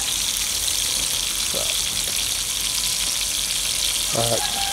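Bacon sizzles steadily in a pan over a sawdust-fueled rocket stove outdoors, a dense continuous crackle with a few brief knocks and clinks of utensils near the end.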